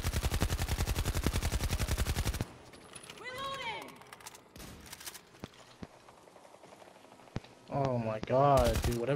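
Gunfire in the Battlefield 2042 video game, with a fast rapid-fire burst at the start, then scattered sharp single shots and other game sounds, with a loud burst returning near the end.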